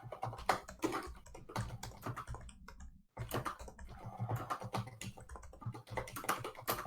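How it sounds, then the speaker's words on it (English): Rapid, uneven keystrokes on a computer keyboard clatter up close and fairly loud, in dense bursts with one brief pause midway. "my typing is terrible"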